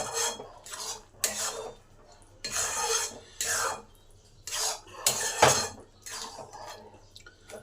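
A utensil scrapes and clinks against a pan as garam masala is mixed into cooked eggplant, in repeated rhythmic strokes up close, with occasional talk in the background.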